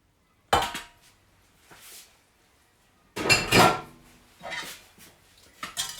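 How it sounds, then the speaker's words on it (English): Icing sugar and butter are whisked together in a kitchen bowl, giving clattering, scraping bursts of whisk against bowl in a few uneven spells separated by quiet gaps. "I'm now going to add in that butter, and we're then just going to whisk this together."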